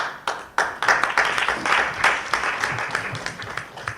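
A crowd claps for the Beninese boxing federation, starting with a few sharp separate claps that quickly build into fairly close, even applause that holds steady.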